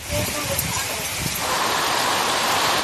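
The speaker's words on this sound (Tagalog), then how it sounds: "Malakas na ulan at hangin ang pinamalas ng bagyong Verbena sa Giwan, Eastern Samar ngayong umaga." Heavy typhoon rain pours down in a dense, roaring hiss, with gusty rumbling wind underneath, loud and continuous throughout, in Giwan, Eastern Samar during Typhoon Verbena.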